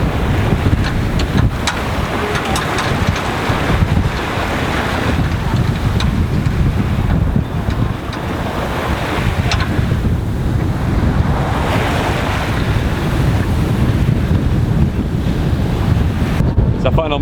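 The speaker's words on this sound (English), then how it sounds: "The wind's blowing anywhere between 20 and 23, regularly gusting up to 25." Strong wind roars across the microphone while rough sea waves slap and rush against a sailboat underway toward Bonaire, wind at 20 to 23 knots gusting 25; a loud, continuous, buffeting wash with no one speaking.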